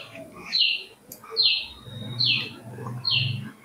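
Pakistani teddy pigeons with their chicks, giving four evenly spaced high chirping calls over low soft cooing, close and moderately loud.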